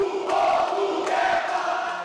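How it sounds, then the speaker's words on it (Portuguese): About fifty people in a legislative assembly gallery boo and shout, a steady, fairly distant roar of crowd noise throughout. "Um grupo de cerca de 50 pessoas na galeria recebeu com vaias e gritos."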